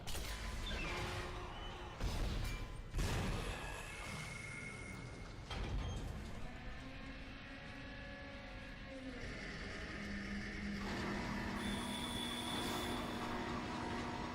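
Tram machinery in the Dead Space video game, a deep mechanical rumble with clanks and hits early on, then a steadier hum and rising tonal whine as the tram gets moving, with no voices.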